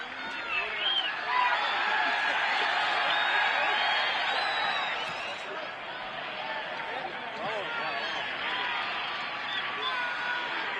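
Atletico Madrid fans chant and cheer for Arda Turan, forming a continuous, roaring crowd din with rising shouts over the whole span, and talk runs through it.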